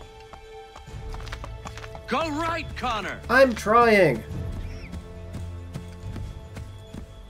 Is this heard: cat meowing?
no